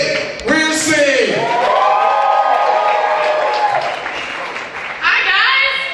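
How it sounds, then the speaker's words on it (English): Audience applause and cheering for spoken word poet Kate Wirsing at a college showcase, a steady crowd wash lasting the whole moment, with whoops and voices rising over the clapping. "please give a big round of applause for Kate Wirsing"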